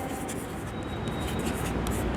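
A pen scratches steadily across paper at close range, a continuous soft rasp with brief strokes and pauses and no talking.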